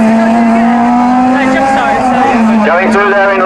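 A rallycross race car, car number 11, drives by with a loud, sustained engine note that shifts in pitch as it passes, heard under a commentator's voice.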